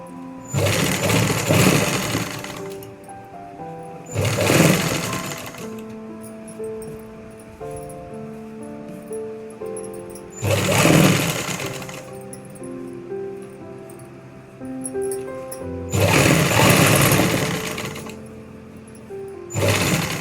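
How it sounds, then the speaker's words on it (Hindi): Sewing machine stitching trouser fabric and elastic runs in four loud bursts of rapid mechanical whirring, separated by short pauses of quieter handling. "इस प्रकार से सिलाई चला लेंगे।"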